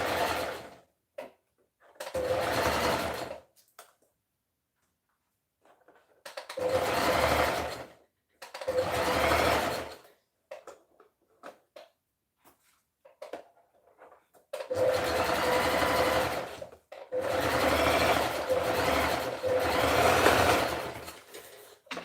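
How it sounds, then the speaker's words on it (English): A sewing machine stitches a skirt in several bursts, each a loud, close, rapid whir lasting a few seconds, separated by silent pauses. "I'm going to be stitching about"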